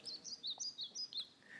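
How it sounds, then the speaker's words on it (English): Birds chirping and tweeting in short repeated phrases, faint and somewhat distant, in an otherwise quiet outdoor setting. "Can you hear the birds singing?"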